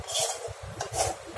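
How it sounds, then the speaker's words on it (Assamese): Besan (gram flour) roasts in ghee in a pan over a low flame while being stirred, giving quiet, irregular scraping and knocking of a spoon against the pan. "বেচনখিনি বহুত টাইম একেবাৰে কম জুইত ভাজি থাকিব লাগিব"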